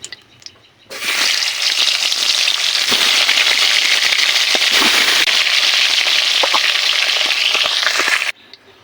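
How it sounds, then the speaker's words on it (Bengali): Fish frying in hot oil gives a loud, continuous sizzle with dense crackling pops that starts abruptly, holds steady for about seven seconds, then cuts off. "বাকি মাছগুলো ভেজে নিব।"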